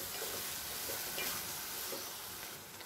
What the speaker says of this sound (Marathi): तर हे वाटण टाकल्यानंतर पण छान असं परतून घ्यायचं।